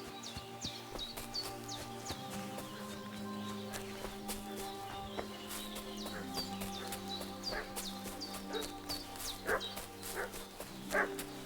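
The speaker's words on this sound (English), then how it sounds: "What's that dog making such a fuss about?" Dog barking in the medieval role-playing game Kingdom Come: Deliverance 2, a string of sharp, repeated barks and yips over busy game ambience with birdsong and music, the barks growing louder and more insistent toward the end.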